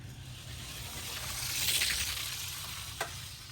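Tomica die-cast 1:64 toy cars, a Lamborghini and a Nissan Fairlady Z, rolling down a race track: a soft, steady rolling hiss that swells in the middle and fades, with one sharp click near the end.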